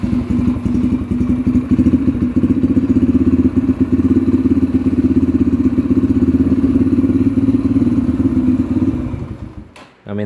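A Yamaha TTR 125 dirt bike engine idles steadily and loudly up close, with an even, low, chugging throb for about nine seconds before it fades out at the end.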